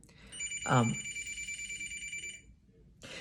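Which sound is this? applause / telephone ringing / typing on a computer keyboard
telephone ringing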